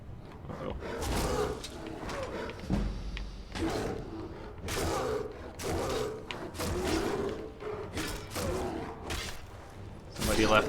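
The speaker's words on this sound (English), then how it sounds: "Bear was fighting a wolf?" In Skyrim, a bear fights a wolf with repeated growls, roars and snarling bursts at mid distance, mixed with thuds and a talking voice over the scuffle.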